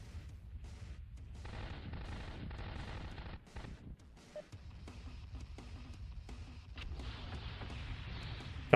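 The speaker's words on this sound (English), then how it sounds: "Couple of like short range missiles." A video game mech firing machine guns and short-range missiles: dense bursts of rapid gunfire and booming launches over a steady rumble, with a brief lull midway before the firing resumes.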